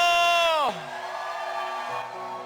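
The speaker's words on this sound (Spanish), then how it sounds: "Quiero escuchar una voz de júbilo" One loud, falling whoop rings out from a church congregation cheering joyfully, followed by a lower, steady murmur of crowd voices.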